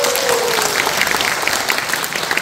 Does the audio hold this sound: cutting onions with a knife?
no